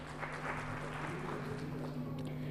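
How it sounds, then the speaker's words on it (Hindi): Faint applause from an audience at a cultural programme prize announcement, a soft, distant patter of clapping held at a low, steady level over a constant electrical hum. "कृपया तालियों से इनका स्वागत कीजिए।"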